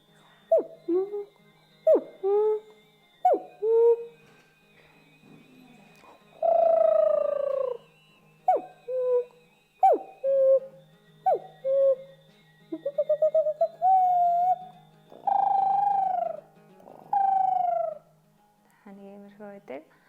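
A Mongolian throat singer's voice imitates a cuckoo again and again, clear two-note hoots and trilling whistles in short bursts with pauses, close and fairly loud.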